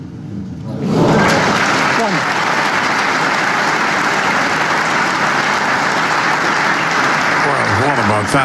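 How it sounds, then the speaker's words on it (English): A snooker arena crowd bursts into sustained, loud applause after a break-off shot, dense clapping that swells quickly and holds steady for several seconds with a commentator's voice faintly underneath. "The crowd gave Ronnie a terrific round of applause for this break-off shot"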